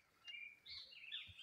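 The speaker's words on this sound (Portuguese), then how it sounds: "Ó, o grito de passarinho aí." Small birds chirp and whistle near a rural farmhouse with a fish pond, bright tweets repeating in short bursts at moderate distance, quiet with no talk.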